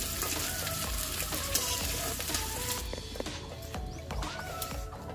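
Raw jackfruit pieces frying in oil in a pan, a steady close sizzle with faint scraping and stirring clatter running the whole way through.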